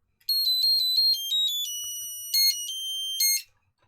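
A loud piezo speaker on a DIY Geekcreit rotating RGB Christmas tree plays a shrill electronic melody of piercing beeping tones, close and steady, with no voices.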